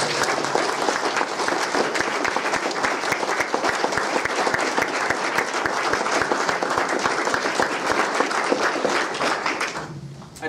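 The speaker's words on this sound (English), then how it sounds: "I would like everyone to please join me in a round of applause to thank Yisa" An audience at a mosaic unveiling ceremony gives a sustained round of clapping, dense and steady for about ten seconds before tapering off abruptly at the end.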